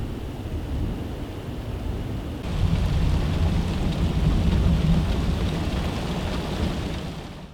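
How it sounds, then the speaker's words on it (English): A thunderstorm with steady rain on an off-grid homestead, heard as continuous dense rainfall with a low rumble of thunder swelling partway through and lingering to the end, and no voices. "the storm rolled in, and we'll take shelter for the rest of the night"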